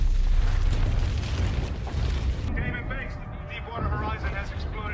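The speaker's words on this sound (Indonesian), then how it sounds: "dengan ledakan besar tersebut, suasana menjadi sangat kacau, di mana semuanya terkena dengan ledakan tersebut." A big explosion at an offshore oil refinery rig in a disaster film gives a loud, deep rumbling roar that fades into chaotic noise, with a voice narrating over it.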